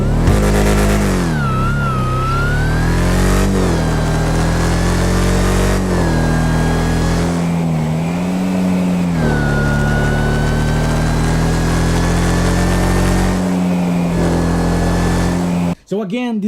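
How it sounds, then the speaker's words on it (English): A supercharged V8 car in GTA Online revs and pulls hard, its engine tone rising and falling over several gear changes, with a steady supercharger whine running high above the deep, loud drone while someone talks over it. "a very powerful supercharged V8, with a very distinctive sound from a proper supercharged engine. There's always a whine sound in the background"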